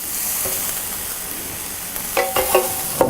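Sautéed vegetables tip into a cast iron skillet, a steady hiss breaking into several loud scraping, clattering bursts near the end.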